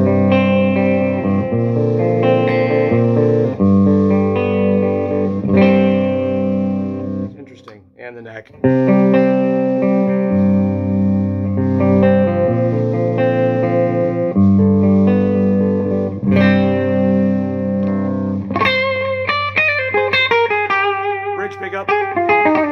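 An electric guitar fitted with a Legendary Pickups Gatekeeper set is played on the middle pickup, strummed chords and sustained notes with chorus and reverb, ending in brighter single-note picking.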